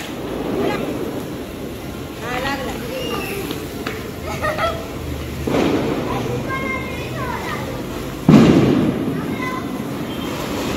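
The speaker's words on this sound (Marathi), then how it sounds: "सुरसुरी संपत आली" A hand-held sparkler fizzes and crackles as it burns down during a festival night of firecrackers, with pops and bangs going off around it and voices, including children, talking nearby.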